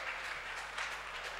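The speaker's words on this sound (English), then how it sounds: "Clap for Jesus." Audience applause at a church healing and deliverance service, a short steady wash of clapping heard at a distance and fairly faint, with no voices over it.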